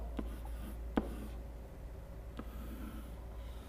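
A pen or pencil writes numbers for a long division sum, quiet scratchy strokes with a few sharper taps, close by in a calm room.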